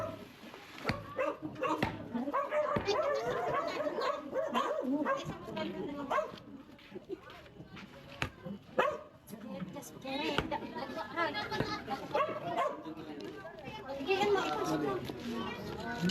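A dog barks repeatedly in a noisy outdoor scene, its yips and barks mixed with people talking and children's voices nearby.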